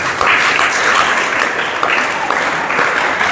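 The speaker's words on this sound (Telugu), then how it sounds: "గట్టిగా దేవుని చప్పట్లు కొడదాం" A church congregation claps loudly and continuously during a sermon, a dense wash of many hands applauding together close by for the full stretch.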